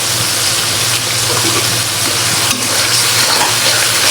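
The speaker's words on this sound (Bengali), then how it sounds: "তো এখন ভালো করে মশলাটা কষিয়ে নিব স্বাদ মতো" A mix of chili powder, turmeric, coriander and cumin frying in a pan gives a steady, loud sizzle with a constant hiss and no break.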